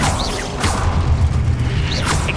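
Hogwarts Legacy spells firing one after another: bursts of whooshing magic and low rumbling impacts, with sharp swishes of casting over a dense, steady game soundscape.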